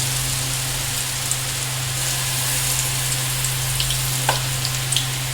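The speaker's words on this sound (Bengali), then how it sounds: "ছোলার ডালের মিশ্রণ থেকে এইভাবে তেলে যতগুলো ধরে আমার জায়গা অনুযায়ী, তেল অনুযায়ী ততগুলো বড়া আমি ভেজে নেব।" Small chana dal fritters deep-frying in oil, a dense continuous sizzle and crackle close by, with a low steady hum underneath and a few faint clinks.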